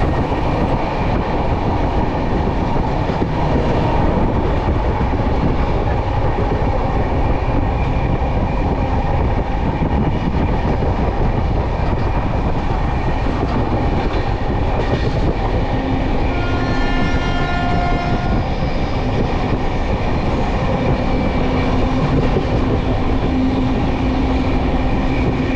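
Bikaner–Howrah superfast express train running through a junction, a loud steady rumble of wheels and carriages throughout, with a brief high wheel squeal or horn tone partway through.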